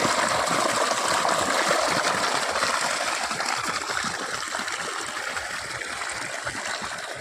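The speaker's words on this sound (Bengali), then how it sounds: "জলটা কোথা থেকে আসছে, জলটা একটুখানি ফুটের ভিতর দিয়ে" Water trickles steadily out through a crack in a footpath, a continuous close hiss and splatter with faint gurgles, no voices over it.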